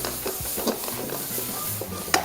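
Ingredients for pasta carbonara fry and stir in a pan, a steady close sizzle with scraping and light clinks of utensil against metal.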